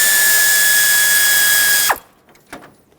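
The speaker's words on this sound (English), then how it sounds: "Now I want to remove the 8mm bolt holding the AC condenser onto the radiator so I can separate the two." A powered ratchet backs out an 8mm bolt holding the AC condenser to the radiator of a 2012-2020 Nissan Pathfinder, giving a loud, steady motor whir for about two seconds before stopping, followed by a few faint clicks.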